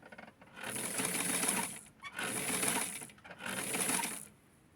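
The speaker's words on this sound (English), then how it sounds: "So now what I'm going to do is sew the hem." Sewing machine stitching a hem on a thin tulle doll dress for a Barbie, three close bursts of rapid whirring about a second each, separated by short pauses.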